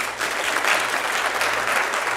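An audience at a live podcast taping claps together, a dense, steady wash of applause from many hands with no talk over it.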